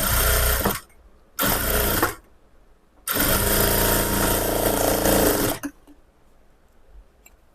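A sewing machine runs a 1/4-inch seam along a lining blouse hem. Its motor gives a loud, close whirring in three bursts with short pauses between them, and the last burst is the longest.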